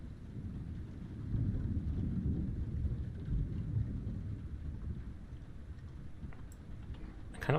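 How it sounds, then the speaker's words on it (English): Thunder rumbles through a rainy storm in the video game Lightyear Frontier, a broad continuous low roll that swells early and holds steady, with soft rain and wind underneath and no voices. "I kinda like that sound of the thunder in game too."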